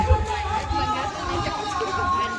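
Sunday crowd chattering at Vajreshwari temple, a steady dense babble of many voices with shuffling movement throughout, fairly close and continuous.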